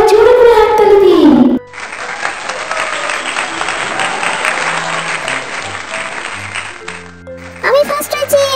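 Applause from an audience at a children's drawing competition, celebrating the winning picture. Steady, full clapping runs for several seconds, with a voice talking before it starts and again as it fades.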